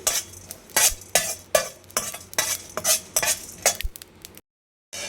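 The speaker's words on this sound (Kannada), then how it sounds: "ಒನ್ ಟೇಬಲ್ ಸ್ಪೂನ್ ಆಗೋವಷ್ಟು ಜೀರಿಗೆ ಇದ್ದು ಕೂಡ ಲೋ ಫ್ಲೇಮಲ್ಲೇ ಫ್ರೈ ಮಾಡ್ಕೊಳ್ಳಿ" Cumin seeds, about a tablespoon, frying on a low flame while a spoon stirs them in the pan; repeated scraping strokes over a soft sizzle, close up with no talk, cutting to silence near the end.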